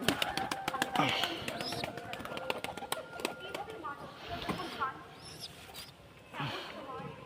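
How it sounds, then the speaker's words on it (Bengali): Domestic pigeons kept at a house give soft, low cooing with some fluttering and scratching, close by and mixed with people talking. "এবং এখানে আছে সবগুলো পায়রা আমাদের।"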